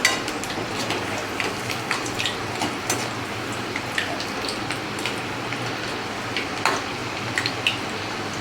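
Kara appam, a spicy batter fritter made for Karthigai Deepam, frying in hot oil in a pan, giving a constant close bubbling hiss like rain with scattered small pops and utensil ticks, and no talking.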